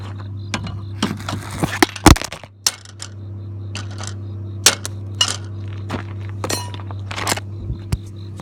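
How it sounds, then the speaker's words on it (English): A bolt is punched out of a guard on an IH 1000 sickle bar: scattered sharp metallic knocks and clinks, one louder strike near the middle, over a steady low hum in a workshop. "So I'm just gonna punch out the bolt."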